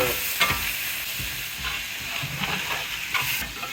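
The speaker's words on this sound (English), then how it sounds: "Just stir all that up." Food being stirred in a pan over an outdoor cooking fire for Mexican quesadillas and queso, with steady frying sizzle and hiss under repeated scraping stir strokes, close and continuous.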